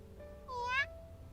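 A single short kitten meow from a video game, a rising then falling mew lasting about a third of a second, close and clear over a quiet background hum.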